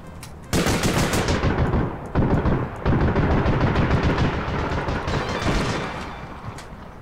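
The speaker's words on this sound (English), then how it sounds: "This person's trying to consistently no-scope me with the sniper rifle" Rapid sniper rifle gunfire in the shooter APB Reloaded, a dense volley of loud close shots in quick bursts, separated by brief gaps and running nearly nonstop to the end.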